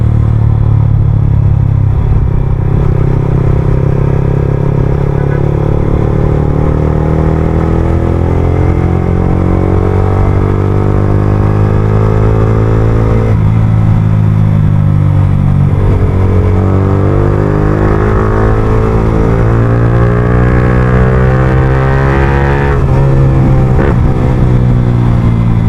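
A Yamaha R15 motorcycle fitted with an Akrapovic full-system exhaust, heard up close as a steady loud engine drone with rising revs and throttle blips toward the end, no talking.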